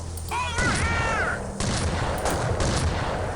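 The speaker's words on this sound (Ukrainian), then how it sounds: "Одного пострілу недостатньо." Gunfire in the shooter game Unreal 2: The Awakening: several sharp, loud shots crack out in quick succession amid a rising electronic whine and in-game effects.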